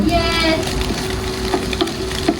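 Egg basket mixture stirred in a hot pan with a steady sizzle and soft scraping, a faint high tone running underneath, no talking.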